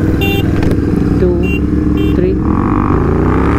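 Tuned KTM Duke 390 and Royal Enfield GT 650 motorcycles in a drag race, with loud, close engine roar building and revving in first gear under a voice speaking over the noise.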